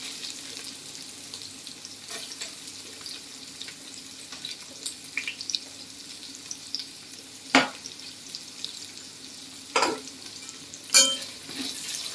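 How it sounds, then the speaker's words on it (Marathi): Crushed onion sautés in a pan until brown, a quiet low sizzle under several sharp clinks and scrapes of a spoon against the pan. "कांदा पण आपल्याला छान परतून घ्यायचा आहे. ब्राऊन होईपर्यंत परतायचे."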